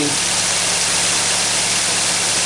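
A car engine idles steadily up close with a continuous even rumble and low hum, no pulses or revving, and no voices over it.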